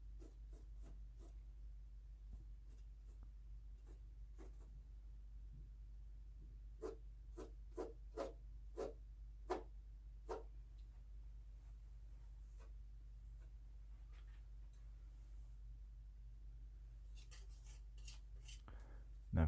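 A palette knife scrapes and cuts details into oil paint on a canvas in a series of short, faint strokes with irregular rhythm, close and quiet over a low background hum.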